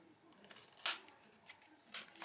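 Scissors cutting through an old painting for a journal cover: two quiet, crisp snips about a second apart, faint and close, with soft rustling in between.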